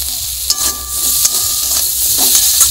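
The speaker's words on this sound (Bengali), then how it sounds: "ভালো করে মশলাটা সবজির সঙ্গে কষিয়ে নিচ্ছি।" Spices such as turmeric, mustard paste and chili powder stir-frying with vegetables in a pan in a Bengali village kitchen, giving a loud continuous sizzle and hiss with a few sharp scrapes of stirring.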